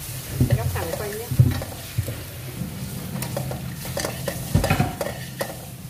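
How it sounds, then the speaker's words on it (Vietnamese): Shallots sizzle in a hot pan while being stirred, a soft crackling fry with scraping and utensil clinks, close and moderately quiet. "Mình phi nó thơm lắm các bạn"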